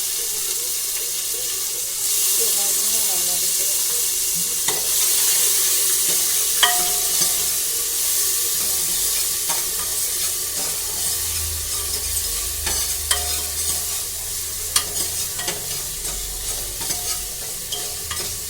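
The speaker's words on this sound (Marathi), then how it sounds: "हलवून घ्यायचं, चांगलं परतून घ्यायचं." Tomatoes and coriander sauté for dal with a steady, bright sizzle that swells after the first couple of seconds, while a utensil stirs and taps the pan in scattered strokes over a long stretch.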